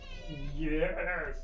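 A pet cat meows once, drawn out and rising then falling, close and fairly loud indoors, with a voice speaking around it.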